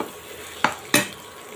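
Beef stir-fried with spice masala in a pan under a quiet background sizzle, with two sharp scraping stirs in quick succession.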